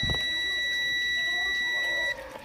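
Continuity buzzer on a multimeter sounds a steady, loud, high electronic tone while probing an electrolytic capacitor in a TV power board, then cuts off abruptly near the end.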